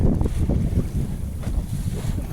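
Steady wind gusting across the microphone aboard a Michalak Blobster small sailboat under full sail, tacking up a lake with water washing against the hull, loud and continuous with no talking.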